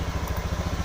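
A motorcycle engine running with a steady low, pulsing putter during a check of a bike whose speedometer does not work, close and fairly loud, alone without talk.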